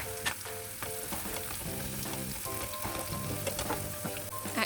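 Mushrooms and onions frying in oil in a pan for an omelette, a continuous close crackle and sizzle with occasional stirring clicks, quiet and steady, with soft background music underneath.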